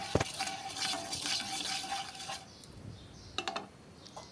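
Boiled raw mango juice poured into a pan of frying spices with turmeric while making a sweet-sour green mango chutney, giving a liquid splash and brief sizzle, then a couple of short clatters near the end.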